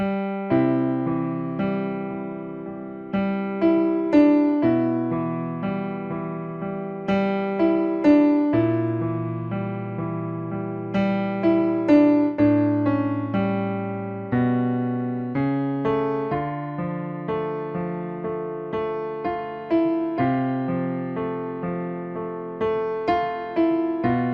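Solo piano plays the next eight bars of "My Way" at a beginner's level, with a steady left-hand bass under a clear, evenly phrased melody of repeated notes and chords. It runs continuously without talk.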